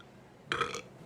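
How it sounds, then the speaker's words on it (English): One short, close burp from a man, alone against quiet room noise. "Sorry, guys, I'm burping on you."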